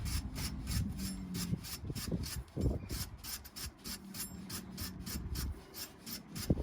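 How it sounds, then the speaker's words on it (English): A wire brush scrubs Saab 93 rear brake parts clean, producing rapid, rhythmic rasping strokes close to the microphone, harsh and steady throughout with no talking. "copper grease and a wire brush. Need to clean everything up, so clean your mating surfaces up."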